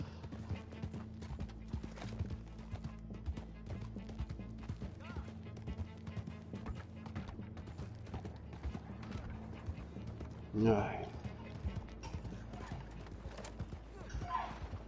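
Horse hooves clip-clop in a steady rhythm as a rider travels in Red Dead Redemption 2 online. A short neigh or bump rises midway, and voices chat over the game sound throughout.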